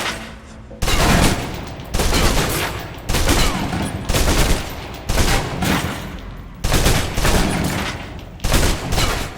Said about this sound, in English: Now, let's move on to the submachine gun.